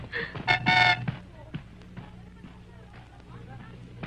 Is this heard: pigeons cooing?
no